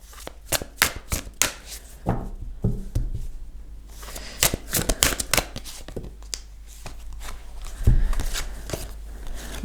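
Tarot cards are shuffled close by in repeated crisp, riffling bursts with short pauses between them, and the flutter thickens toward the end.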